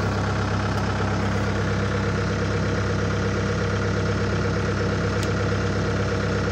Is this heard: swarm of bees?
no